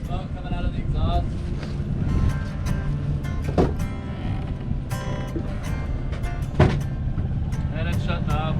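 An outboard motor runs on a small boat just leaving Puerto Vallarta, puffing white smoke shortly before it fails: a steady low drone under wind buffeting the microphone, with voices talking over it.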